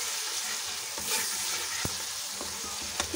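Masala for a cauliflower and pea sabzi fries in a pan with a steady close sizzle, broken by a few soft clicks as it is stirred.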